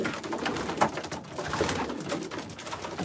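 Racing pigeons sitting on eggs coo in their loft, a steady overlapping chorus of soft, throaty calls that stays close and continuous throughout.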